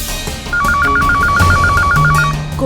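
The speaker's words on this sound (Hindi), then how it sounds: "भाभी, ये राशि भाभी का ही फोन होगा।" A telephone rings in a loud, repeating electronic trill, close by, for a couple of seconds with no one speaking.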